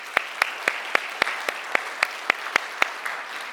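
A church congregation claps in a steady, evenly spaced rhythm, a dozen or so sharp claps at moderate volume with little else around them.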